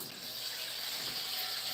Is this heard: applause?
no